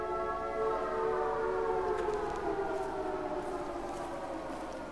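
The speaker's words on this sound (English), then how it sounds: "Why is the siren blaring?" A civil defense style siren blares steadily in the video game Life is Strange True Colors, its layered wailing tones sliding slowly in pitch and staying loud throughout with no talk over it.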